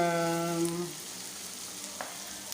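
Chopped onions sauté in hot oil in a pan, a soft steady sizzle heard close, preceded by a brief voice and with a faint utensil tap near the end.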